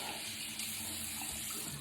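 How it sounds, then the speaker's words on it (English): Water from a tap runs steadily onto a makeup beauty blender sponge, a continuous close hiss of flowing water with no talk. "put some water on it"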